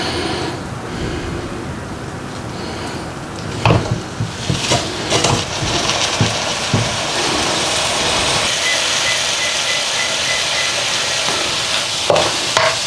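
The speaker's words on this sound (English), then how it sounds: "Very quick, over the top, stir fry." Beef stir-fries over high heat in a pan: a loud hiss of sizzling oil is broken by clattering scrapes and tosses of the utensil, then the sizzle settles to a steady hiss.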